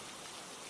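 Steady rain falling, a dense, even hiss of drops on surfaces, continuous and fairly loud with no breaks.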